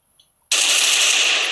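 After a brief quiet moment, a sudden loud burst of rapid gunfire in a Free Fire ranked match erupts and continues as a dense, sustained rattle.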